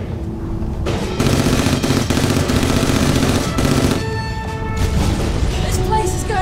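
Rapid machine-gun bursts fired from a dirigible in an audio drama, loud and sustained, with music underneath and a brief pause before more shots and ringing tones.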